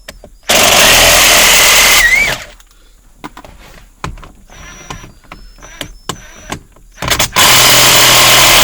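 Cordless power driver spinning out a T15 Torx screw from the steering column cover of a 2007 PT Cruiser, two loud whirring bursts at the start and end with quieter clicks and handling noises between, close up.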